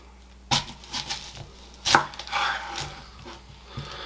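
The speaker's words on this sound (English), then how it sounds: "the first thing I'm going to do here is I'm going to slice half an onion" Knife slicing half an onion on a cutting board for shrimp Fra Diavolo, a series of crisp, close chopping thuds at an uneven pace, with a louder cut near the middle and no talk.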